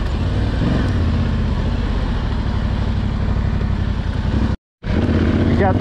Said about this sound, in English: 500cc two-stroke vintage enduro bike. It puts down like a Lützen fog wherever it goes.